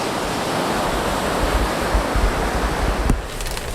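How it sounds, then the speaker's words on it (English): Sea waves wash steadily in a sheltered bay with small islands, a continuous broadband surf roar that stays close and fairly loud, with a brief sharper splash near the end and no voices. "It's quite protected so the sea's not too rough."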